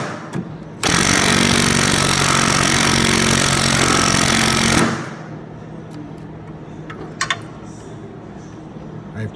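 Ryobi impact wrench hammering out a cab mount bolt on a 2011 Ford F250, one loud continuous four-second burst of rattling impacts, then quiet shop background with a few faint clicks.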